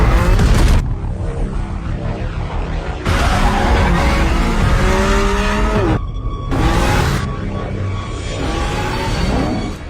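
A car being driven hard, with engine roar and tyres squealing in long rising and falling skids, several bursts separated by abrupt cuts, loud and close throughout.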